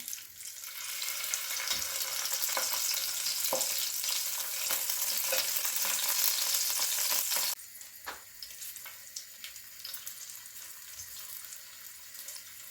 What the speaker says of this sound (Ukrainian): Сало починає потрошки шкварчати.